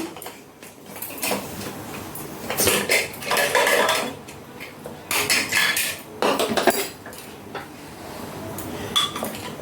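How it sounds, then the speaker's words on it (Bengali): Metal clanks and scrapes of a pressure cooker lid being worked open on a home kitchen stove, several bursts of clattering cookware, fairly close, with no talk. "কুকারটা আমি খুলে নিচ্ছি"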